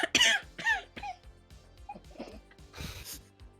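A person coughs close up, with a couple of harsh bursts at the start, then quieter throat sounds and one more rough cough near the end, under faint background noise.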